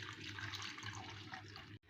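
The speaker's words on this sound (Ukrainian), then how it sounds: "кастрюлю я наливаю 1 літр кип'яченої водички" Steady rushing pour of one litre of boiled water into a pot, fairly loud and continuous, cutting off abruptly near the end.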